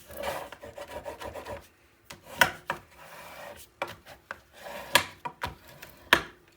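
Rubbing and burnishing a folded paper piece for a Christmas mini album, with repeated dry rasping strokes and a few sharper scrapes and taps, close and fairly quiet, no voices.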